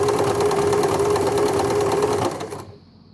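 Empisal Dressmaker 270D sewing machine stitching a honeycomb pattern, a steady close whirring drone with rapid needle clatter that runs for over two seconds and then winds down and stops.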